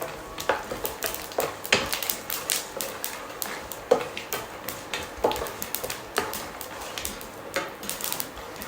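Peanuts roast in a pan for Gujarati-style poha while a spoon stirs them, giving repeated scraping clinks and rattles at a steady rhythm over a faint sizzle, close and fairly loud, with no talking.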